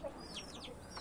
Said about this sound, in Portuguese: Essa galinha aqui eu deixei ela separada porque ela tava botando.